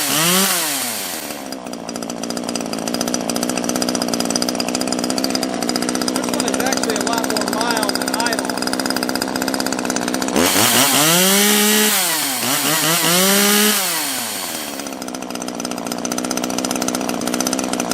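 Top-handle Stihl or Husqvarna chainsaw, choked to start, roars loudly and continuously close by, with the engine dropping and revving up and down in a couple of sharp swells mid-run before settling back to a steady buzz.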